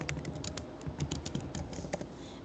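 Quick, faint key taps on a computer keyboard as a short note is typed, in an uneven run of light clicks with no voices.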